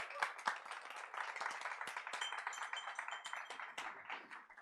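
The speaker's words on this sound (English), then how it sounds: "Applause is ongoing." Conference audience at a Women in Agrifood summit applauds as a speaker takes the stage, a steady wash of many hands clapping with a few sharper individual claps standing out, fairly quiet and distant.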